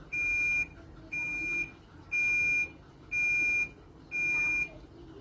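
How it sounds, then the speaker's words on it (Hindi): A Haier HWM 90-1789 top-loading fully automatic washing machine signals the end of its cycle with a series of loud, evenly spaced electronic beeps, each about half a second long, with quiet gaps between them and no talking. "ये इसकी 6 सिंपल सी बीप्स हैं।"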